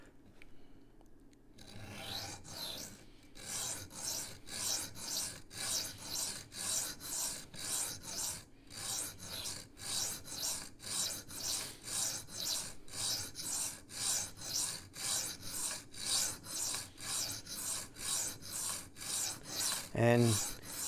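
A Rough Ryder Half Hawk knife edge is sharpened against a stone with 3D printed angle guides, giving steady rhythmic rasping strokes, close and continuous, about two per second, ending with a brief squeak.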